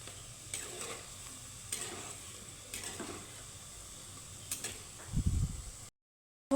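Sweet Bengali pitha frying in hot oil over a medium gas flame: a soft sizzle with a few brief scraping or stirring movements, then a short low clatter before the sound cuts out. No one speaks.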